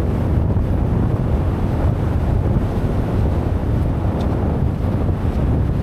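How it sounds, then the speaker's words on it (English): Strong wind on an icy mountain summit, up to 50 mph, roars steadily and loudly across the microphone throughout with no break and no talk. "Getting windy now though,"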